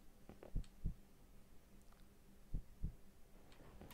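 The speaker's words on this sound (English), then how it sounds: "This is my heartbeat sound" Heartbeat effect from the horror game One Late Night, two paired low thuds repeating at a slow steady rhythm over a faint hum, with no talking.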